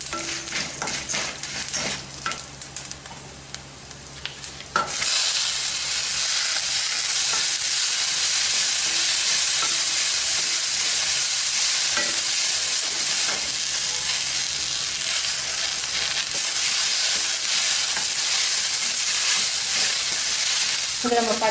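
Curry leaves and coriander sauté with tamarind and turmeric in a hot pan, a loud steady sizzle with stirring scrapes that runs continuously and alone after a quieter start.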